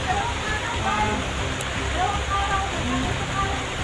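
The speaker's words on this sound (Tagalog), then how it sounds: "Hindi namin inaasahan na pagdating namin dito ay sobrang ulan" Heavy rain pours in a dense, steady hiss, loud and continuous, with faint scattered higher sounds over the downpour.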